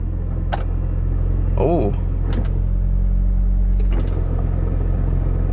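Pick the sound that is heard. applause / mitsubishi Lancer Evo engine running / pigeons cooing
mitsubishi Lancer Evo engine running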